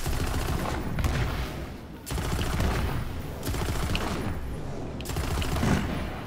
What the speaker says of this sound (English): and it shoots out these explosions.